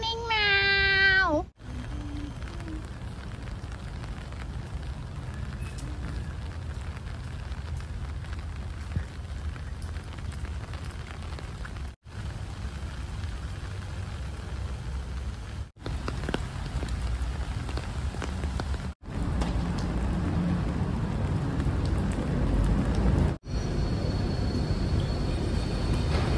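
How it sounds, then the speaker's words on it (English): Steady rain hissing on surfaces, broad and continuous, with a few abrupt cuts in the sound and a faint rising tone at the very start, at a night market in Singapore. "And finally, it's raining now."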